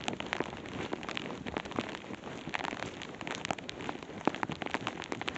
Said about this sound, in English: it's raining loads.